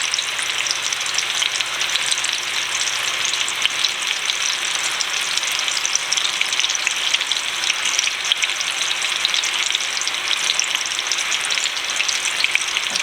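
Fatty meatballs frying in a pan to render out fat before going into a crock pot, a steady, dense sizzle holding evenly loud throughout with no talking.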